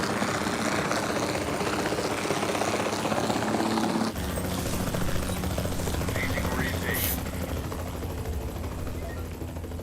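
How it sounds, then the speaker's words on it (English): Helicopter in the park-building game Jurassic World Evolution 2, a continuous close rotor and engine drone with rapid chopping pulses, under occasional talk and gunfire effects. "This is such a modern helicopter."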